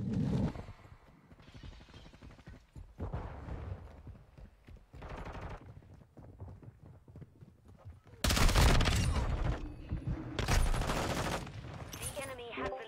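Video game gunfire with loud bursts of shots, including shotgun blasts, in clustered volleys that grow louder and denser toward the end, with a voice talking quietly at times.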